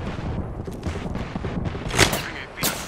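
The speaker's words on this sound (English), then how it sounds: "A second squad is firing on us." Apex Legends gunfire from a battle royale firefight, a steady crackle of shots with two sharper, louder bursts near the end, mixed with game noise and some voice.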